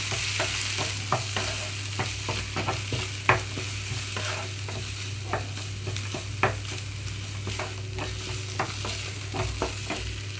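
Steady oil sizzle with a constant low hum underneath, broken by irregular sharp clicks and pops of green chillies frying in a tempering over low to medium flame.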